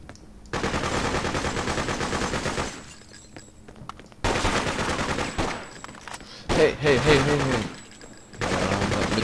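Gunfire in the Freedom Fighters video game comes in loud, sustained bursts of rapid shots, broken by short pauses and quieter stretches, with a final burst near the end.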